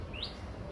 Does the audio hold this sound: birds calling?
yes